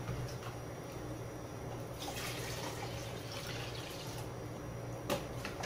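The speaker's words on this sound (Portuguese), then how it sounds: "Vou começar a colocar agora a água aqui." Water being poured into a detergent and salt mixture in a container, a soft steady trickle and splashing at close range with a brief knock near the end.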